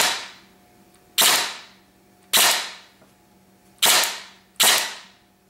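A Lonex Titan A2 airsoft gun with an M150 spring, short-stroked and ported, fires four sharp, loud cracks at uneven intervals, each shot leaving a short decaying ring behind it.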